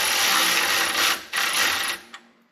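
A socket ratchet turns 5/16 bolts with a 1/2 inch socket on a John Deere 3039R tractor: a close, loud stretch of fast clicking that breaks off twice and then tails away.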